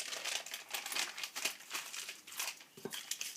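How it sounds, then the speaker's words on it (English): A strip of duct tape is pulled and torn while a homemade ESD mat and cutting board is assembled, giving close, continuous crinkly rasping with uneven surges and no talking. "And a piece of duct tape to hold it together."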